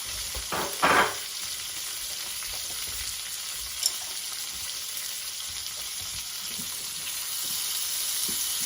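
Seafood and onions sear in melted butter with a faint, steady sizzle, broken by a couple of brief clatters of stirring near the start and a single light tap partway through; no one speaks.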